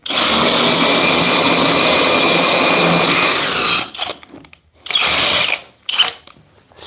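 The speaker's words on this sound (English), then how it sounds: "Still sunk it quick, and it was on drill mode." A cordless hammer drill set to plain drill mode, running on a fully charged 6 amp-hour lithium battery, drives a screw in one loud continuous whine lasting several seconds, then stops abruptly; a few short bursts of handling noise follow.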